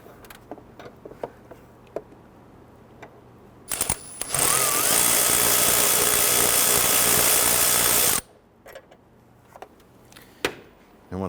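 A ratchet on extensions and a swivel working a 10mm bolt loose under a 2011-2017 Nissan Quest 3.5L V6: scattered clicks and taps, then a sustained loud whirring burst of about four seconds, then scattered clicks again.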